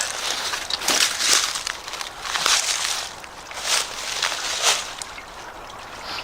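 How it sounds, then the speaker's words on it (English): Water pours through an old stone canal lock on the Union Canal, a steady rushing trickle that swells in repeated bursts, heard up close with no talk. "Got a lot of water flowing through it too."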